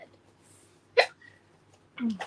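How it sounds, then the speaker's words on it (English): Two short hiccups about a second apart, close and fairly loud, with a faint soft hum underneath and no talking. "You got the hiccups again."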